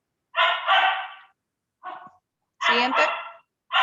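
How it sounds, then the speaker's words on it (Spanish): A puppy barks during a lecture, giving a few short, sharp yips in separate bursts with silent gaps between them, close and fairly loud, as a person speaks briefly. "domine a su cachorro porque nos tiene mal"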